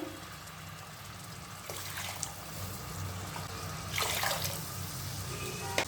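Faint water pouring into a pressure cooker for egg biryani in two short splashing bursts over a quiet background hum, with no voices.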